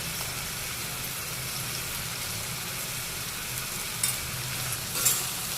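Dal frying in a pan with onion, tomato, salt and chili while spices are stirred in, giving a steady close sizzle with a couple of brief scraping clinks near the end.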